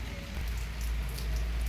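Rain falls steadily on adenium plants in the rainy season, a soft, even patter of drops that stays close and constant with no voices.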